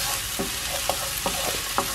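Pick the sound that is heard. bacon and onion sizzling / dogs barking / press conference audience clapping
bacon and onion sizzling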